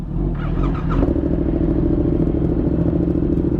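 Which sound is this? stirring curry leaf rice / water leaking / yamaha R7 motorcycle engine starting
yamaha R7 motorcycle engine starting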